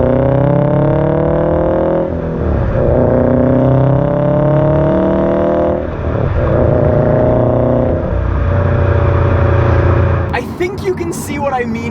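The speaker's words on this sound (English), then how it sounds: "you can finally hear that Subaru rumble out of your car with this exhaust" Subaru STI fitted with an aftermarket exhaust, a loud steady engine drone and rumble while driving, with pitch rising under acceleration and briefly dipping twice as gears change, near and continuous throughout.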